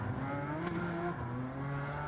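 Porsche GT4 race car in Gran Turismo 7, a steady droning engine note holding at high revs, loud and continuous with a slight pitch dip partway through.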